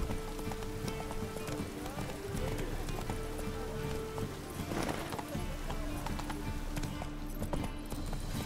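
Geralt's horse Roach galloping in the video game The Witcher 3: Wild Hunt: a steady, fast clip-clop of hooves runs throughout under a dense game soundscape, with a voice speaking over it.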